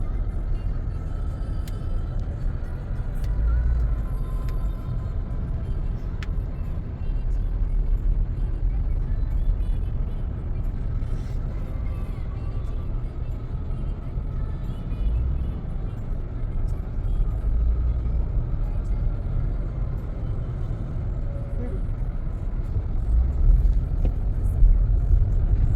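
Mahindra XUV700 crawling through heavy highway traffic, giving a steady low cabin rumble of road and engine noise with passing vehicles and occasional faint thumps.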